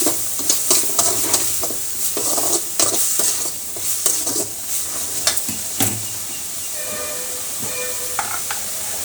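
Loud, steady sizzling of ingredients sautéing in a pan while rasam boils nearby, with intermittent scraping and stirring clatter close by.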